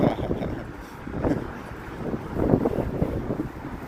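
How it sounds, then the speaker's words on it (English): Gusty wind buffets a microphone on a Chicago street in late October, a loud rumbling rush that swells and fades in uneven waves. "Yeah, it's windy."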